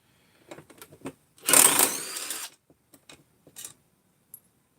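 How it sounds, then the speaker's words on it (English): Bolts being removed from an engine case: scattered light tool clicks and taps, then a louder, rougher burst of about a second of buzzing, ratcheting noise, followed by a few more sparse clicks. "Let's pull the case bolts out."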